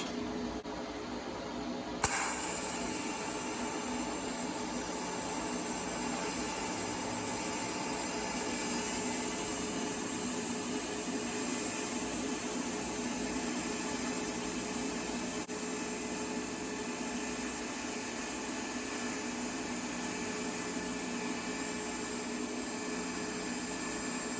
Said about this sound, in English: I'm going to weld this up. I'm going to weld all the way across to the tack.